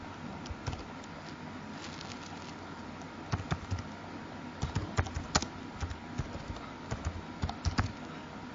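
Computer keyboard typing while entering data into an Excel 2007 salary sheet, bursts of quick close key clicks separated by pauses, with no voice.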